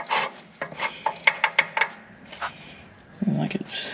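PTO gear on a John Deere BN tractor rubs and grinds in short scraping bursts, a close series of rasping strokes with brief pauses and a lower scrape near the end.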